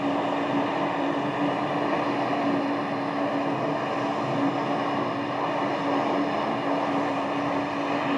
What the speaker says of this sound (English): we do have one rolling for takeoff.